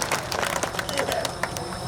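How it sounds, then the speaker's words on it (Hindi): Crowd clapping at an outdoor civic felicitation gathering in Jhunjhunu, a brief burst of scattered, moderately distant applause running beneath someone talking over a loudspeaker. "उनके लिए ताली बजाओ"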